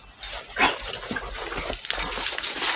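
Puppies play in deep snow during a snowstorm in Wyoming, giving soft yips, whimpers and excited panting up close amid rustling movement, with faint background noise throughout.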